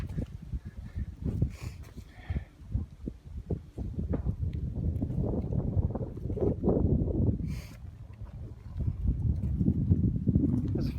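Gusty wind rushes and buffets the microphone on a chilly stretch of the Appalachian Trail near Watauga Lake, a steady low rumble with irregular thumps and swells, close and fairly loud throughout.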